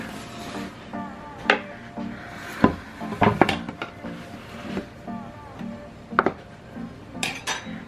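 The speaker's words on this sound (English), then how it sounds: "I'm gonna get like a board to flip this over" A wooden board is handled for flipping over a pan of pumpkin bread, producing scattered knocks, taps and clinks of wood against bakeware at close range.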